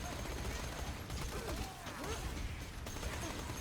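Rapid Maliwan Florentine Hellfire fire in Borderlands 2 crackles in a dense, continuous stream with metallic clatter and bursts, loud and close, with faint whistling tones drifting underneath.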